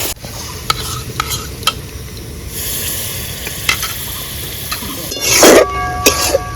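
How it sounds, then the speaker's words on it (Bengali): Spiced mutton masala with sugar is stirred in a pan, with a steady sizzle broken by sharp scrapes and clacks of the spoon, and one louder burst of frying near the end. "দিয়ে আমি ভালো করে নাড়ছি। সামান্য জল দিয়ে আমি কষিয়ে নিচ্ছি।"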